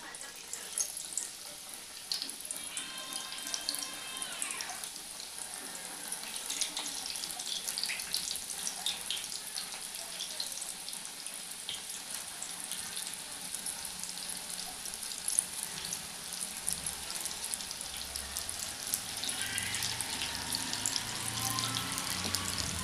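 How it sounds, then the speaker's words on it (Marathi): Bhaji fritters fry in medium-hot oil with a steady, hissing sizzle and fine crackle that grows slightly louder toward the end, with a faint short tonal sound early on. "मध्यम आचेवर छान असे सोनेरी रंगावर भजी तळून घेऊया"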